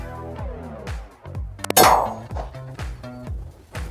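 A 10 mm round from an FK BRNO 7.5 pistol strikes a steel target about 15 yards away, giving a single sharp metallic clang with a brief ring, set among softer tonal sounds.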